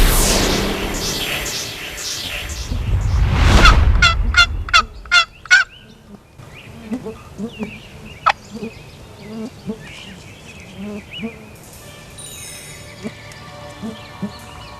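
A wild turkey gobbles loudly in a rapid rattling burst close by, followed by a string of sharp, separate calls and then quieter scattered bird calls against a faint outdoor background.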